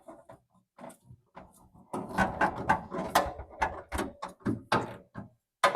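A ratchet wrench tightens the front fender bolts on a 1968 Volkswagen Beetle, giving quick rhythmic clicking runs that start and stop in a series of close, fairly loud bursts.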